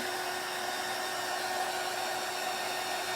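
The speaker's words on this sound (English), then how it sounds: "I got a couple of little globs I'm having to babysit and get dry." A handheld heat tool or dryer blowing on wet globs of paint on a reverse canvas, a loud continuous whirring hum that stays steady from start to finish.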